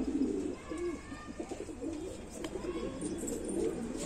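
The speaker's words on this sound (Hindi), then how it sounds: "तो भाई ये है कबूतर," Pigeons coo in a steady, low, throaty run of repeated calls from a backyard coop of breeding birds, close and moderately loud with no talking over them.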